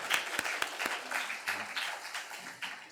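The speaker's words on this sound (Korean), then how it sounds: "우리 하나님께 영광의 박수를 드리겠습니다." A church congregation at a Sunday worship service in Ulsan breaks into loud, dense applause, many hands clapping together in a steady wash that tapers slightly toward the end.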